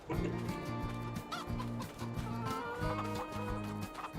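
Chickens cluck in Farming Simulator 22, a close and busy run of repeated clucks in quick bursts from a small flock.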